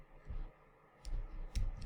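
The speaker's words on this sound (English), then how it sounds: "I'll go to my keyboard now and press the Control G on my keyboard" A Control-G key combination pressed on a computer keyboard during an ESXi installation, heard as a few soft, low clicks spaced about half a second apart against a quiet room hiss.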